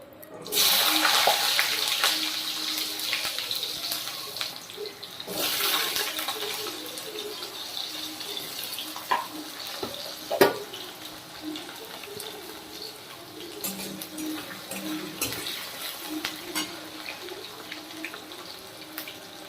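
Small potato pieces fry in hot oil in a pan after a cumin seed tempering, hissing and sizzling as a steady close crackle with occasional sharper pops, no speech.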